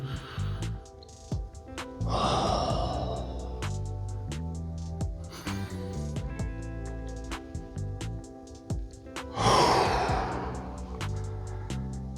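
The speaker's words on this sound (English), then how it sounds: "Breathing deeply." Deep breathing during a morning yoga mobility routine, slow audible inhales and exhales spaced several seconds apart, close and clear under steady background music.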